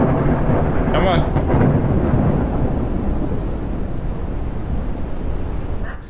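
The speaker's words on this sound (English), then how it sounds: "These storms ain't a joke!" Heavy rumbling thunder rolls through a Forever Skies video game storm, loud and continuous from the start with a steady wash of rain beneath, slowly easing toward the end.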